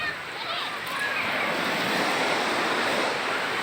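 Sea waves wash steadily onto a beach on an overcast day, a continuous, loud surf roar with no breaks and some wind noise.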